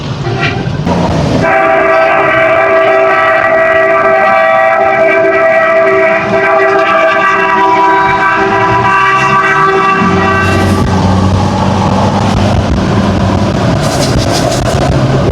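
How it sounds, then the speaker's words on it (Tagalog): A rescue vehicle's horn blares in one long, very loud, continuous blast lasting around nine seconds, close by, followed by rumbling engine and road noise. "Busina, busina para tumabi."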